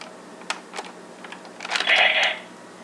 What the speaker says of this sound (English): And it'll make this clicking sound, like you're loading a gun.